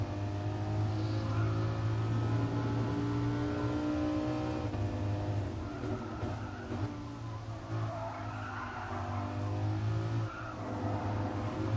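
A road car with a manual gearbox drives in the racing game Gran Turismo Sport. The engine holds a steady, flat-sounding drone with a few brief pitch shifts and intermittent tire squeal, and it stays loud and close throughout.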